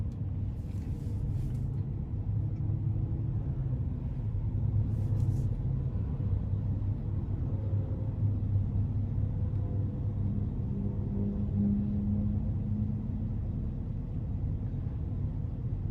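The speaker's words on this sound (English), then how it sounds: "sitting here at idle, it's pretty quiet. I mean, I can hear the Vortec even over the AC" The Vortec engine of a GMC conversion van idles as a low, steady, continuous rumble heard from inside the cabin, with the air conditioning running throughout.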